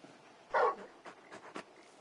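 Torgal, the large dog companion in Final Fantasy XVI, gives a short soft whimper followed by a few faint whines and sniffs, quiet and close.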